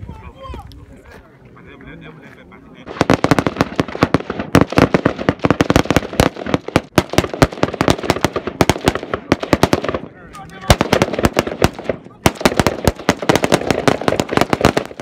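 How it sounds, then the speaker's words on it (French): Live-ammunition gunfire from special forces in a firing exercise during Flintlock 2018 at Ouagadougou rings out as rapid, loud bursts of sharp cracks in dense volleys, with a narrator talking quietly at the start. "Les tirs sont à balles réelles."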